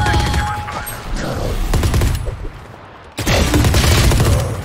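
Gunfire in the tactical shooter Valorant crackles in rapid bursts and volleys, loud and close, with a brief lull before another heavy burst of shots.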